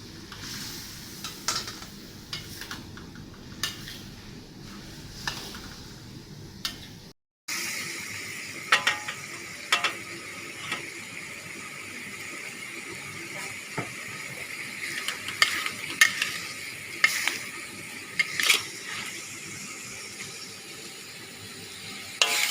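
Tofu goes into a pan for Sichuan mapo tofu, then gets stirred: a soft sizzle and frying hiss continue under scattered light scrapes and clicks of a utensil against the pan, all close by.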